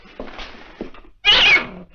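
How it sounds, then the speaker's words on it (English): Cat or kitten meowing once, a loud, short cry standing out after quieter indoor movement and faint background sound, heard alone without talk. "Our cat had kittens and they're all over the place."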